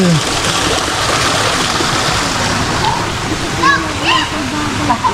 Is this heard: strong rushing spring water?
yes